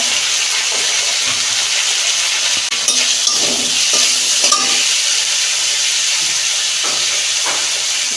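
Coriander and cumin spice masala fries for a home-style fish curry, giving a steady, loud sizzle with occasional stirring scrapes and clinks in the pan.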